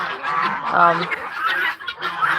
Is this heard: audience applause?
no